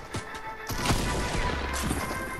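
Gunfire in Halo, a rapid cluster of sharp shots and impact crashes over a noisy battle background, loud and close, with several distinct bursts in quick succession.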